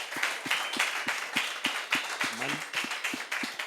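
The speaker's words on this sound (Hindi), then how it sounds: "Give the Lord the best clap offering you can." Church congregation clapping in a steady even rhythm of about three claps per second, a full room of hands together, with a voice briefly speaking over it.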